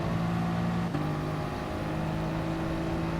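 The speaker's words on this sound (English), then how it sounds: "Full throttle down the main straight." A race car engine drones at high revs under full throttle on the St. Croix B circuit, a steady loud tone with a brief gear-shift dip near the start.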